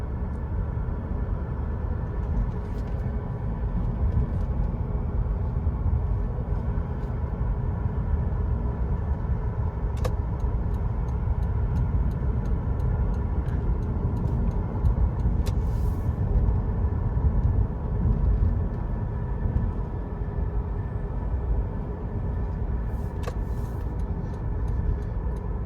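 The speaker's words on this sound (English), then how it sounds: "Be quiet, that way you guys can hear how smooth the car is." A Lexus GS car runs smoothly with a steady, low, even engine hum, quiet and unbroken throughout, with no talking.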